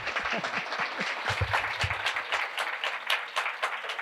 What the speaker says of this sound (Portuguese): Salva de palmas para a Andressa Marques.